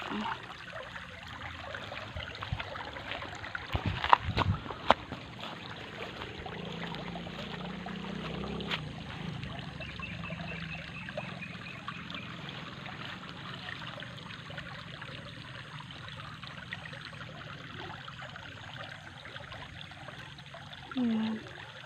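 Water flows through an underground channel toward a resort, a steady, faint trickling and gurgling heard throughout under a low background hum, with occasional knocks and a voice at one point.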